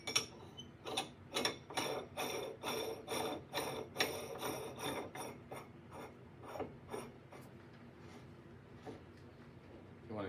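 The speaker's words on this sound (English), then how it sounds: "then we're going to screw on the bomb lid" The threaded lid of a laboratory bomb calorimeter being screwed on by hand, giving a string of rhythmic ratcheting, grinding clicks in short bursts. The clicks are close and clear at first, then thin out and fade.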